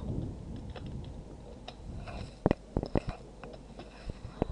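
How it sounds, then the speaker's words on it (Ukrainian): Someone types text on a computer keyboard in light, irregular clicks. The keystrokes are faint at first, then a sharper cluster of taps comes in the middle, heard close over a quiet room hiss. "написати текст з клавіатури"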